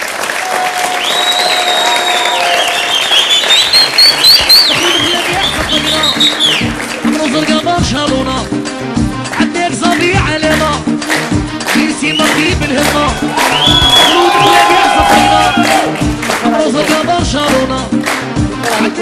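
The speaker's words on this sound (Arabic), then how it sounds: "يوسف نستقبلوه على وقعة تصفيقة الجمهور" Loud studio audience applause and cheering on an Algerian television football show, sustained clapping from a crowd with whistles and cries on top, running the whole time with occasional voices mixed in.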